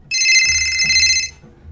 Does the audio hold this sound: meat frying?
no